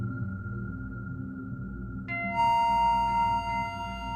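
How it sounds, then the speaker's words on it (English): Electronic tones from a Eurorack modular synthesizer sound out clearly and alone: a steady pure tone holds at first, then brighter layered tones with a sine-wave oscillator switch in midway and sustain with slight level shifts. "here's an oscillator doing a sine wave"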